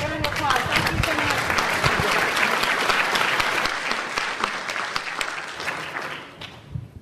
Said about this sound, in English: let's give TJ a round of applause